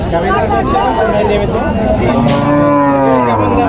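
Cows at Alamdanga cattle market low with long, drawn-out moos, loud and close, over a busy crowd babble and talking.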